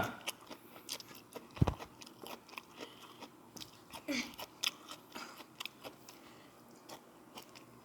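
Close, crunchy chewing of spicy khanom jeen (Thai rice noodles), with irregular bites and mouth sounds scattered over about eight seconds and a few soft murmurs.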